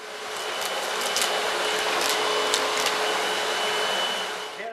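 A Panasonic 775 upright vacuum cleaner runs with a loud, steady whirring roar for the whole stretch. The motor sound stays close and even, with faint rattles over it and no talking.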